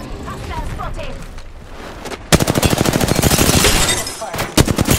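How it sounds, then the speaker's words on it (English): Apex Legends gunfire: a loud burst of rapid automatic shots starts suddenly and runs for about two seconds. A shorter volley follows. Quieter game sounds and character voice lines come before it. "Listen up, I'm getting shot at."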